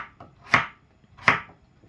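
Two sharp knife chops through radish cut into thick pieces on a cutting board, with a fainter tap in between; close and distinct, no voices.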